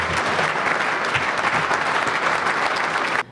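Audience applause for Tony Pomerleau at a celebration event, a dense, steady round of clapping from a large crowd that holds strong throughout before cutting off abruptly at the end.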